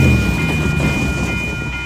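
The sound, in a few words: Amtrak Capitol Corridor train 527 passing by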